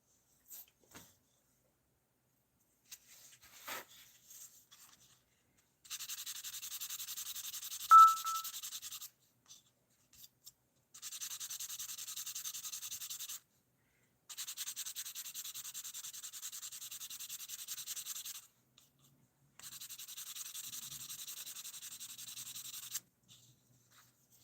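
Hand sanding comes in four separated bursts of steady scratchy rubbing, each a few seconds long with quiet gaps between, plus a few faint knocks and taps early on.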